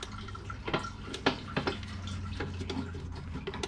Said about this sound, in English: Let the fuel drain a little bit, back into the tank.